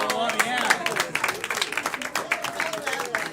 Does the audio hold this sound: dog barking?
no